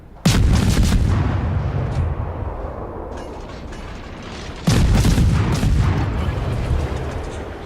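Heavy naval guns fire from warships in the World of Warships game, with two loud, booming salvos a few seconds apart, each followed by a long rumbling decay.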